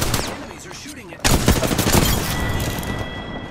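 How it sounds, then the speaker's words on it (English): Rapid gunfire from enemies in the shooter game Apex Legends erupts in loud, dense bursts, with a softer stretch of shots before a sudden heavy volley that continues to the end. "Enemies are shooting it."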